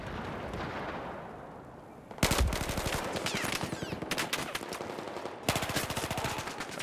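Gunfire in a Battlefield video game, with a sustained roar of battle, then dense rapid bursts of automatic and pistol shots cracking loudly in quick succession, briefly easing before another burst.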